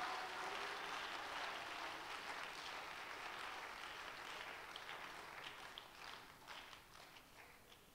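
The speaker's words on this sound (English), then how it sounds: "Why don't we clap our hands and give him praise one more time?" A church congregation claps hands in praise, a dense, faint patter of many hands that slowly thins and fades over several seconds.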